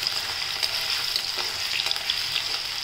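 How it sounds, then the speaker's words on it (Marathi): Chopped garlic sizzles steadily in hot oil in a pan while being cooked for vegetable Hakka noodles, a constant close hiss with faint crackles and no voices. "लसूण आपण थोडं सोनेरी होऊ देऊ।"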